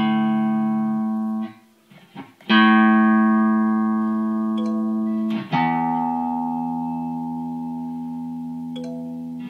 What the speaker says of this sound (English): that little sound obviously is to indicate that we're on the right pitch